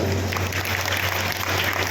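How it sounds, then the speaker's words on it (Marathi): A seminar audience claps loudly in a dense, continuous burst of applause that lasts throughout, with a steady low hum beneath it. "जोरदार टाळ्या असं"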